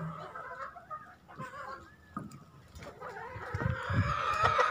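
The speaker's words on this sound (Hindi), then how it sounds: "ये देखें थोड़ी सी मुर्गियाँ" Chickens on a farm cluck and squawk nearby in a busy overlapping chorus, with a brief crow-like call and rising clamor toward the end.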